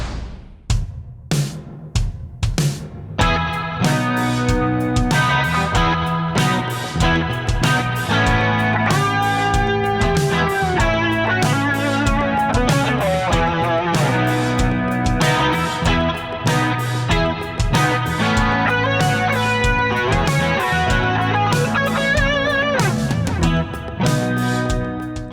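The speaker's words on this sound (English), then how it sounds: "For this 80s track, I opted for the gated reverb, because why wouldn't you?" Electric guitar played through a Crazy Tube Circuits Sidekick Jr reverb and delay pedal set to gated reverb, in an 80s-style track: sharp opening hits, then loud, dense, continuous playing with a full sustained body throughout.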